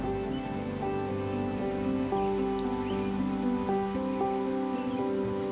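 Monsoon rain falls steadily in a broad-leaved mountain forest in Sichuan at about 2,000 meters, a dense, even patter on leaves and surfaces with scattered distinct drops, continuous and alone with no voices.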